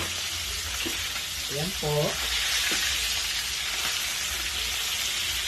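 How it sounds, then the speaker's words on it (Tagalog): Eggplant and other food frying in a pan, a steady bright sizzle that continues throughout while a voice speaks briefly over it. "Nagprito po ako ng talong at saka gigi."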